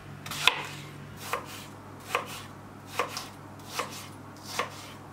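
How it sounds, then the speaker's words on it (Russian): A knife chops apples into cubes on a cutting board, six evenly spaced thuds at a slow steady pace, close and clear, with no voices. "И будем нарезать кубиками."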